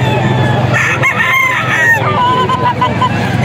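A rooster crows loudly and close by, its long harmonic call rising and falling over a steady background hum, with faint voices murmuring underneath.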